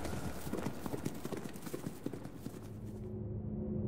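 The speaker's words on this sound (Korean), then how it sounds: "기사는 까마귀에게 눈을 떼지 않으며 쉬지 않고 말을 달렸다." Horse hooves clip-clop rapidly in a steady galloping rhythm, loud and close, with a faint whinny-like tone near the end; no talking.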